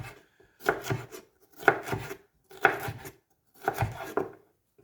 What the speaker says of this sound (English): just chop through the whole shape of the pepper without trying to flatten it out